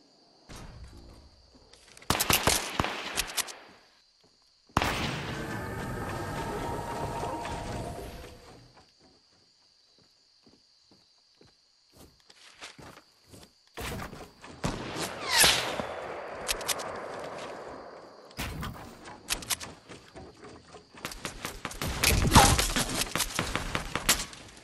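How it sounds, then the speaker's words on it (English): Shotgun blasts and assault rifle bursts in a Fortnite build battle come in separate clusters between quiet gaps, some sharp and loud, others rolling in rapid strings, with no voices. "hit him with a shotgun to do as much damage as I can, and then drop in the rest with the assault rifle"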